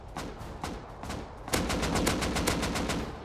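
Gunfire in the survival game Rust: a few separate shots crack out, then a rapid run of about a dozen evenly spaced shots follows, loud and near, with no one talking.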